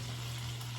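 Chopped sardines sizzle in a hot pan, a close, steady frying hiss with a constant low hum underneath and no talking.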